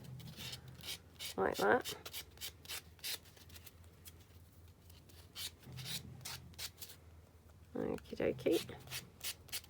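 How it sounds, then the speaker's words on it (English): A sanding block rubs the scruffy edges of chipboard tiles in quick, close, rhythmic strokes, in short bursts separated by brief pauses, with a person speaking softly twice over the scraping. "just go in with your sanding block, sand off the scruffy edge"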